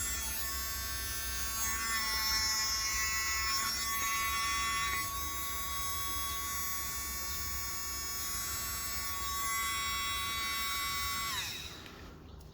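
A Thetford toilet flush pump motor from 2018, freshly lubricated after repair, spins steadily with a continuous high whine and buzz for about eleven seconds, then winds down at the end; close and fairly quiet, with no talking.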